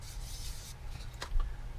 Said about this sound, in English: You want to distribute that sanding effect evenly across the bottom of a flat part.